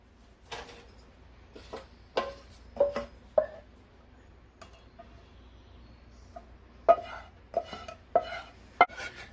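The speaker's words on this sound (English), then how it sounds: "we're going to take the sauce and we're going to strain it through this mess strainer" Intermittent scraping and clinking of a spoon pressing thick raspberry sauce through a metal mesh strainer to remove seeds, quiet soft strokes with occasional sharper metallic taps.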